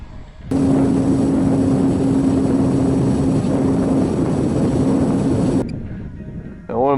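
A loud, steady electric motor whine from an E-Flite Apprentice 15e model plane in flight, holding a constant pitch for several seconds before cutting off abruptly.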